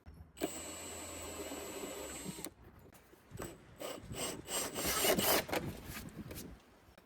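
A 5/8-inch drill bit grinds steadily through plastic, then stutters in rough rasping bursts as it breaks through, close and moderately loud.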